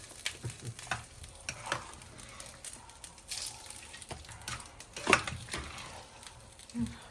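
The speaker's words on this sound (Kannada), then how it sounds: "ಇದಕ್ಕೆ ನೋಡಿ ನೀಟಾಗಿ ಒಗ್ಗರಣೆ ಹಿಂಗೆ ಹಾಕಿ ಕಲಿಸ್ಕೊಂಡು ತಿನ್ನಿ" Oggarane tempering poured over a dish and mixed in by hand, moderately loud intermittent wet stirring and sizzle bursts with a few sharp clinks, no voices.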